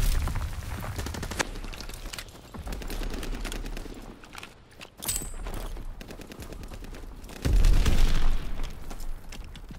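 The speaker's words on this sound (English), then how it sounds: "Enemy mortar fire incoming." Enemy mortar fire in a combat scene, a chaotic barrage of rapid gunfire and heavy booming explosions, with a big deep blast near the end, loud and close throughout.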